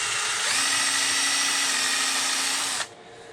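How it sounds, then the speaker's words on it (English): A power drill whines steadily at high speed for a couple of seconds, then cuts off abruptly, leaving quiet room noise. "So I usually only drill out 2 of them"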